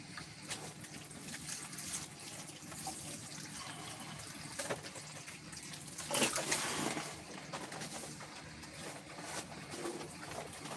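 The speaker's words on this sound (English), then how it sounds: "We're going to water this, so hopefully it all goes in the correct direction." Water pours from a container onto a plant cutting in a pot of rooting hormone-treated soil, a faint soft trickling and splashing that swells briefly in the middle, heard alone without talk.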